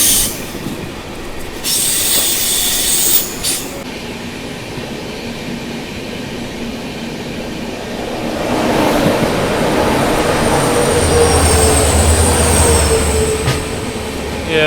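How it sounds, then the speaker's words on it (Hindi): Banker locomotives pass on a ghat-section railway line, heard from aboard a moving train as a loud rolling rumble with sharp, high wheel squeals and a rising clatter near the end. "ये जा रहे हैं इस रूट के बैंकर लोकोमोटिव"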